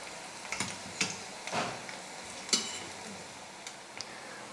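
Medu vada frying in hot oil, a faint steady sizzle broken by scattered clicks and scrapes as a ladle turns them.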